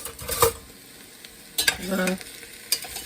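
Onions sizzling in a pan for a homemade meat sauce: a close, soft hiss with a few short bursts of stirring and scraping, with quieter stretches in between.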